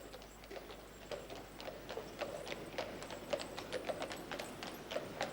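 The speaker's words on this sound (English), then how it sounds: "Listen, the sound of horses in the busy streets of London." Horses' hooves clip-clop steadily along a busy London street as the horses pull beer carts, with a continuous even beat over a faint background hum of traffic and no voices.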